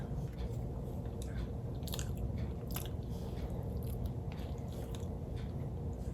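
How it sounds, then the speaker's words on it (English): Someone takes close bites of a McRib sandwich and chews, with soft crunches, wet squishes and repeated chewing sounds heard up close, no talking. "I'm gonna take one more bite, one last bite from this McRib"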